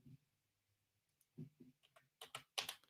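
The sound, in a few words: typing on a computer keyboard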